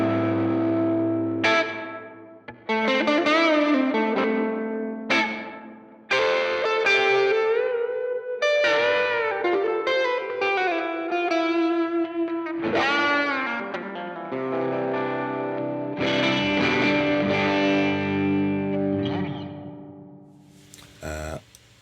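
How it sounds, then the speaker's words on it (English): An electric guitar played through a long stereo reverb on a Two Notes Torpedo Captor X rings out in phrases and chords, each note trailing into a lush, lingering wash of echo. "So we've got long stereo reverb."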